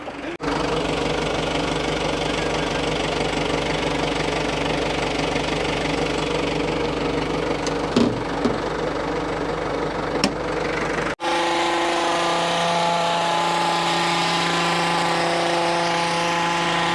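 Power tool trimming a conifer hedge out of season, a steady loud motorized drone running continuously for about eleven seconds with a few brief crackles, then cutting off into a quieter tonal hum.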